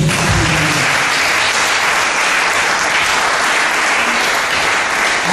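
Loud, continuous applause fills a church as the congregation claps to acclaim the Lord, a steady dense roar of hands with faint cheering mixed in.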